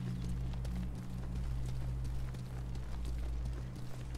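Horse hooves beat in a quick, steady galloping rhythm in the samurai video game Ghost of Tsushima, a continuous clip-clop over low rumbling game ambience.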